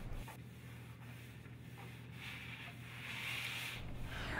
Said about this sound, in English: Pull down a few inches of liner and squeegee as instructed before.